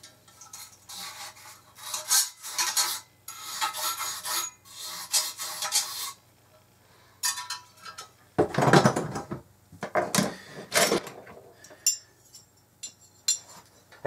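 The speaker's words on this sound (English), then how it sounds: "Now I'm going to get a larger brush and clean out the casings." A brush scrubs inside the valve casings of an old York cornet in bursts of close, rasping strokes separated by short pauses, with a few metallic clinks near the end and no talking.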